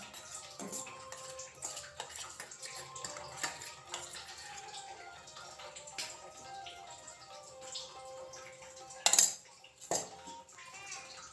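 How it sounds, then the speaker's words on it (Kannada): Ragi flour being roasted with ghee in a pan, stirred with a metal spoon: a steady run of light scraping and clinking over eleven seconds, with a louder clatter of utensil against pan near the end. "ಈಗ ಮತ್ತೆ ರೋಸ್ಟ್ ಮಾಡಿ ತುಪ್ಪದ ಜೊತೆಗೆ ಹಿಟ್ಟು ಪೂರ ಮಿಕ್ಸ್ ಆಗೋವಂಗೆ"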